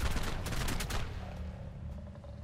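Gunfire in the survival game ARK during a PvP fight bursts out in a rapid cluster of loud shots, then fades into a lower, ringing tail.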